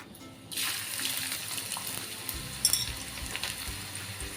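Onion hits hot oil in a pot over medium heat and bursts into a loud, steady sizzle, a sudden rushing hiss close by that continues with bubbling crackle.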